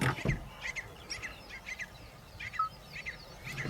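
Faint repeated bird calls, short chirping cries at an irregular rhythm over low outdoor background noise, at the Nemmeli salt pans near the Mamallan reservoir.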